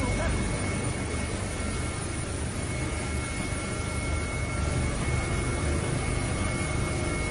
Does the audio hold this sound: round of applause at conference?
no